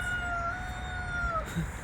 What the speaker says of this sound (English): Cockerel is there behind that fence.